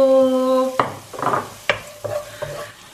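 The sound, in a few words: garlic and onion sautéing in hot oil in a pan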